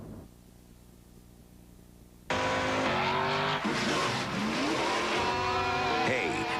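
Pontiac Wide Track Grand Prix NASCAR race cars roar in loud and close after a quiet opening, engines revving and tires squealing as the pack races past.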